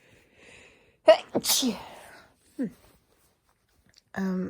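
A single sharp sneeze bursts out after a short intake of breath, close and clear, with brief quiet vocal sounds around it.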